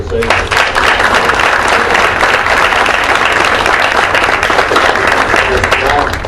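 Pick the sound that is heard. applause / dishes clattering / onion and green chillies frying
applause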